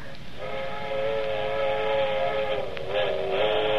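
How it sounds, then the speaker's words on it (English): Sustained steam train whistle in a 1939 radio drama, a steady harmonic wail held for nearly four seconds, loud and alone with no talk over it. "them train whistles. To remind you of other places. You hear them all night."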